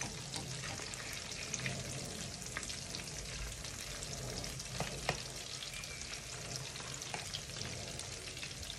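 Whitebait fish frying in hot oil for a fried whitebait and shrimp dish, giving a steady, dense sizzle throughout with occasional louder pops and crackles, close and continuous with no talking.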